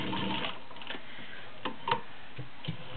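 Mint green vintage Singer model 15-125 sewing machine stitching through a couple layers of domestic leather, a steady close mechanical ticking rattle with a few sharper knocks.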